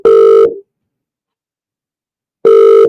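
A telephone call rings out: two loud, steady electronic ringing tones sound about two seconds apart, with silence between them and no voices.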